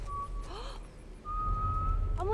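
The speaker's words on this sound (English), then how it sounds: "I'm whistling." A game character in The Last of Us Part 1 whistles a few clear, sustained notes with a short rising-and-falling phrase between them, close and alone over a low ambient rumble.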